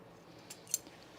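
Two quick, faint snips of scissors close by, clipping the curves of fabric for a sewn top, the second crisper than the first, in an otherwise quiet room.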